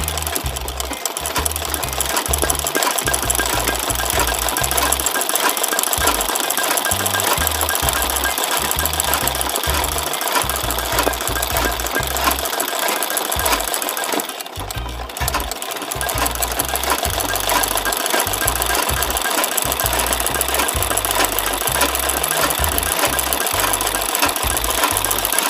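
Sewing machine stitching an embroidered chili design onto a dress shirt, running loud and close with a steady rapid mechanical chatter and rhythmic low thumping of the needle, pausing briefly midway before resuming; no talking.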